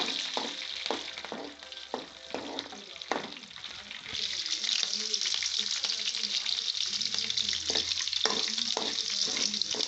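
Green chillies, mustard seeds, chana dal and urad dal sizzle and crackle loudly in hot oil for a masala avalakki tempering, with bursts of spattering and occasional stirring scrapes throughout.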